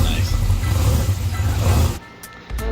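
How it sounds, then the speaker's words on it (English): Deep rumbling Corvette engine idling loudly nearby at a car cruise event, then briefly dipping, with people talking over it. "his badass Corvette. Listen to that thing."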